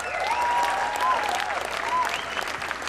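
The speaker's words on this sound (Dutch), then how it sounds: "Applaus." Audience applauding at a Friesland 2018 song presentation, dense steady clapping throughout, with a whistle or cheer rising above the crowd.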